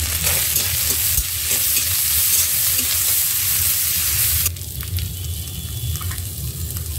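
Vegetables with onion, ginger, turmeric and green chili fry in a pan, giving a loud, close, continuous sizzle with stirring scrapes, which drops to a softer crackle partway through.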